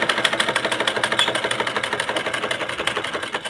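A sewing machine runs a steady, fast, even rhythm of stitches along the side seam of a kameez, with no voices over it.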